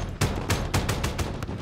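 Heavy 30mm cannon fire from a helicopter gunner in a Call of Duty: Modern Warfare campaign mission, coming as several loud, booming bursts spaced about a quarter second apart.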